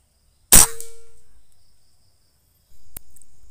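An air rifle fires one sharp crack while its scope is zeroed at close range, 10 to 50 m. A fading ring follows, then a second, fainter snap about two and a half seconds later.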